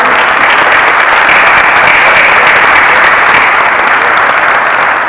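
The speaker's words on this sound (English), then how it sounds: "Can we give everyone a huge round of applause?" Dense, steady applause from an audience fills the room at an art event, Visual Voices 2015 in Dayton, a continuous loud wash of many hands clapping together without pause.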